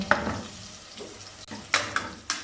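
Garlic and ginger fry in a hot pan for a tadka, giving a soft, steady sizzle with a few sharp clinks and scrapes of a spoon stirring against the metal.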